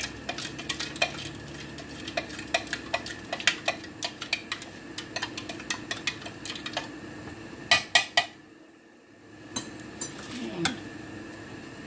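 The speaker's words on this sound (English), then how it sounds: "And stir." A spoon stirs seasoned salad dressing in a bowl, producing a steady run of light clinks and scrapes against the bowl, with a few louder taps near the end.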